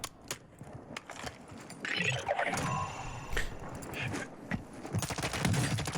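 Gunfire in Warzone 2 in the Al Mazrah map: rapid automatic bursts and scattered sharp shots, clustering heavily toward the end, over rumbling mechanical game noise.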